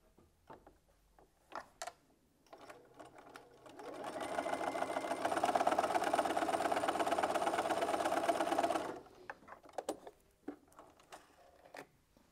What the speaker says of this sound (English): So I'm going to sew that on.